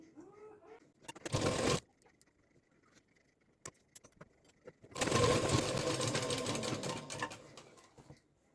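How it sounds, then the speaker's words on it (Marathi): A sewing machine stitches fabric for a potli bag in two bursts, a short run and then a longer steady one, with quiet handling sounds between. "इंचाचं मार्जिन ठेवून इथे शिलाई मारून घ्यायचं आहे."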